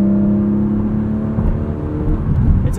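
A 2021 Porsche 718 Cayman GTS 4.0 with a six-speed manual pulls hard in sixth gear from about 70 mph and 2,500 rpm. Its engine note is a loud, steady drone that rises gradually, with road and wind noise beneath it.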